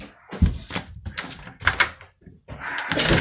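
A door is opened while someone carries a bucket of water, giving a few close knocks, rattles and a latch-like clunk, followed by rising shuffling noise.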